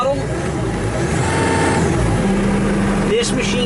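Engine of a 2014 John Deere 333E rubber-track skid steer loader running steadily and loudly up close as the throttle is raised, with a rising engine tone partway through and brief talk near the end.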